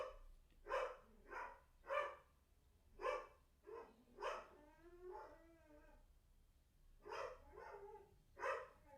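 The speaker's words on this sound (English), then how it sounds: "Dog is throwing a fit." A dog in a house throws a fit with a run of repeated barks and long howling whines, fairly distant and steady across the whole stretch with no talk over it.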